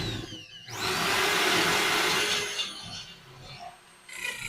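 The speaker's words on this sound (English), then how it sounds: "now we're going to go ahead and drill these holes" A drill whines up to a loud, steady grinding drone for about two seconds while drilling holes, then winds down and trails off, close by.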